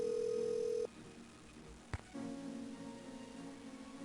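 A telephone in the 1998 Nancy Drew game Secrets Can Kill gives a steady dial tone, a single click as a key is pressed, then a softer ringing tone that continues to the end.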